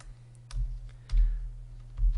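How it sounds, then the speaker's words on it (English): Soft typing on a computer keyboard while entering data into a Google Sheets spreadsheet, a few quiet key clicks in short clusters over a low steady hum. "We are going to type in our label, MPH, which is miles per hour"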